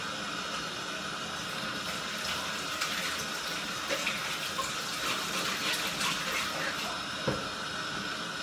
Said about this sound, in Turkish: ellerimi yıkadım ve şimdi onları da yıkıyorum